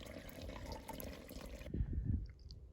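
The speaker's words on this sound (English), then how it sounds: "Flowing really slow, but this water is cold and tastes amazing." Cold spring water trickling slowly from a small pipe along the Pacific Crest Trail, a soft steady flow that turns to closer, fuller splashing and gurgling partway through.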